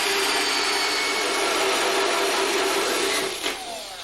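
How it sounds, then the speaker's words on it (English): A power drill whines steadily at close range while drilling a hole during a renovation, a sustained motor drone that drops off briefly near the end. "I'm ready to drill a hole."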